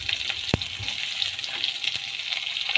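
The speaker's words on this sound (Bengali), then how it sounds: "আর এখানে পেঁয়াজটা ভাজা হচ্ছে, পেঁয়াজটা ভাজা হয়ে গেছে। এবার আলুগুলো দিয়ে দিচ্ছি" Sliced onion and potatoes sizzle in hot oil in a pan, a close, crackling fry with a sharp spit or clack partway through and small pops scattered over the steady hiss.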